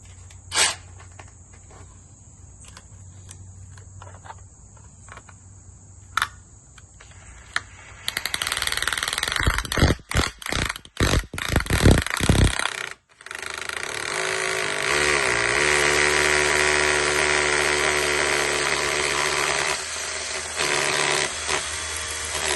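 A power drill whirs in short stop-start bursts, then runs in a long, steady, grinding drive as it bores into brick.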